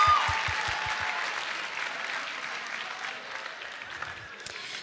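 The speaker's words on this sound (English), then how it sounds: "A round of applause." A room full of people at a high school senior awards ceremony claps steadily, the applause starting strong and gradually thinning out toward the end.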